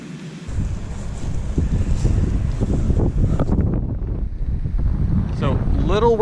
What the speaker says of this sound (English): So, little windy today,